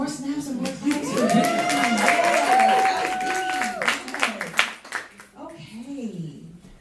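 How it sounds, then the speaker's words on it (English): Clapping, cheering and crisp finger snaps from the audience at a poetry event, with voices calling out over the crowd and a sustained vocal whoop; the noise peaks mid-way, then thins to scattered claps and talk. "Yes, more snaps and more claps"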